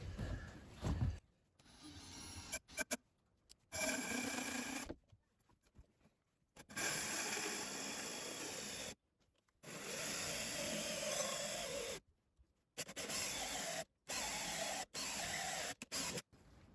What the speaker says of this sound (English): Now I'm just gonna try and drill this around here.